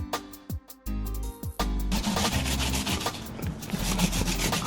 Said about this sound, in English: Clean it down with that brush.